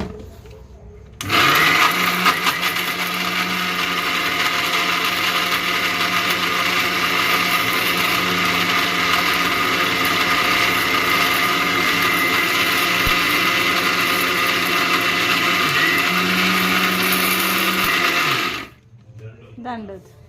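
Electric grinder grinding incense ingredients: a loud, steady motor whir that starts abruptly, runs continuously with a slight pitch dip partway through, then cuts off and spins down near the end.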